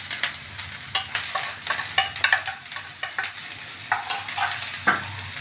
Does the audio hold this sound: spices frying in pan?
yes